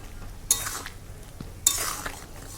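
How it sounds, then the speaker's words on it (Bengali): Raw mango pieces for an oil-free pickle are stirred in a pan. Two scraping, rustling strokes of the spoon land close by, each trailing into a soft sizzle, with no talking. "তো আমি এখানে আমটাকে খুব ভালো মতো করে নাড়াচাড়া করে নিচ্ছি।"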